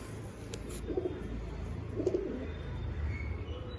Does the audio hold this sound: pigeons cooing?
yes